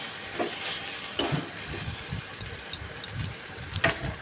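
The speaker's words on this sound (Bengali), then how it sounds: "আদাটাকে একটু ভাজা করে নেব তবে খুব বেশি করা করে ভাজার দরকার নেই" Ginger frying in hot oil for a Bengali pointed gourd and egg curry gives a steady, close sizzle, with a few sharp clicks and scrapes from a stirring utensil scattered throughout.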